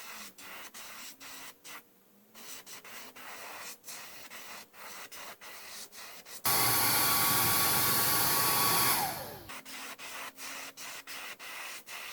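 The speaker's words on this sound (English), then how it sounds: "now all I gotta do is sand that smooth and it'll be ready to paint" Sanding a carved wooden 7-inch minnow fishing lure smooth: steady rhythmic rubbing strokes, close and fairly quiet, broken midway by a few seconds of loud continuous hiss, then the strokes resume.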